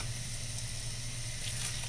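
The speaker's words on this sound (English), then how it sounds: "You just drop the meat right in." Beef chorizo sizzles steadily in a hot pan, a constant close crackle with a low hum underneath and no pauses across the short stretch.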